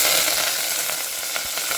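Onions, green chillies and curry leaves tossed into hot oil after mustard seeds pop, giving a loud, close, continuous sizzle with brief crackling bursts and scraping stirs, no voices.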